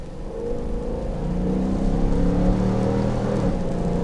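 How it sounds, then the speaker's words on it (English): A 2019 Dodge Durango R/T engine accelerates steadily in sport mode from second gear, a low rising drone with harmonic layers building over a few seconds, heard from inside the cabin with no talking. "let's turn on sport mode and we'll do a small acceleration here"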